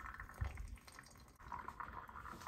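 Coffee dripping through a 10-cup Chemex glass pour-over coffeemaker, a quiet continuous trickle with faint liquid patter, close and soft.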